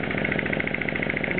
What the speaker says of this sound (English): it's actuated with the air over hydraulic actuator